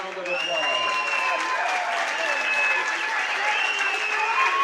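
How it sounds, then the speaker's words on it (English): Audience applauding both fighters after the judges' decision at a boxing event, a steady dense wash of clapping and crowd noise lasting throughout, with a ring announcer's voice over it. "let's give both fighters a big round of applause."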